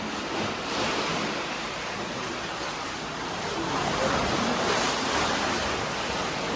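Sea waves at high tide along the north Goa coast near Keri, a dense continuous roar of surf breaking and washing in, loud and steady with wind mixed in.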